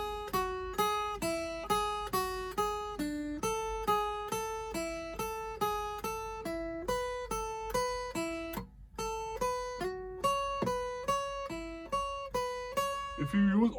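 An electric guitar plays through a beginner lead exercise from start to finish as a steady run of evenly picked single notes, about two per second, close and moderately quiet, with a short pause partway through.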